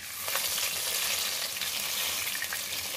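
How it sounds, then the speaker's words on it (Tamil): Loud, steady sizzling of chopped garlic and ginger frying in hot oil, crackling continuously up close with faint stirring. "எண்ணெய் நல்லா காஞ்சிட்டு பொடியா நறுக்கி வச்சிருந்த பூண்டு இஞ்சி சேர்த்துக்கலாம்"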